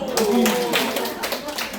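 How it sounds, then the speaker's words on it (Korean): An audience at a village community forum clapping for a public official, brisk applause heard under a speaking voice that carries over it. "공무원님께 박수!"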